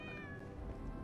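A short, faint meow from a cat in the game Lies of P, a single drawn-out call over a low background rumble.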